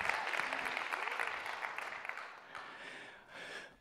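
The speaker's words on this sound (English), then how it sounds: "we can give them another round of applause." Chapel audience applauding the worship band, loud close clapping that gradually thins and fades toward the end.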